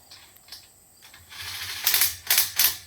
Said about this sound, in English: I'm going to grab my 9/16 socket. I'm going to put the crossbar so all of the tabs are facing up